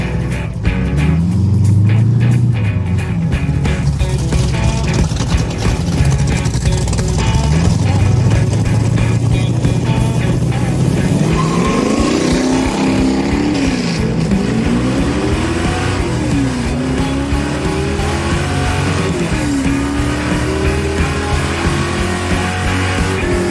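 A hot rod car runs a fast lap on a track, its engine roaring loud and continuous, rising and falling in pitch as it accelerates and shifts, with no clear talking over it.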